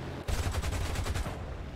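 Aircraft machine guns fire during an air battle in the War Thunder video game, a loud rapid burst of evenly spaced shots lasting about a second over a constant engine drone, with no talking.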